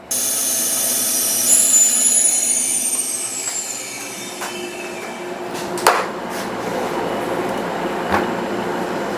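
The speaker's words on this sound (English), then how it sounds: "We got to let the the vacuum back into the chamber" A steady, loud hiss of air rushing into a freeze dryer's vacuum chamber as the vacuum is released, with a sharp clunk partway through and a lighter knock later; no one speaks.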